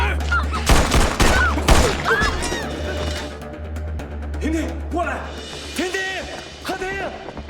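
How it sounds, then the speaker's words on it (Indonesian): A rapid volley of gunshots cracks out early, followed by sparser impacts while voices shout and talk over the commotion. "Tetapi untung saja, dari belakang, Zheng Bu melepaskan tembakan yang membuat ketiga anak buah sirih mati."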